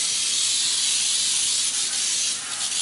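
A continuous loud hiss of an aerosol baking spray can spraying up close, steady throughout and easing slightly near the end.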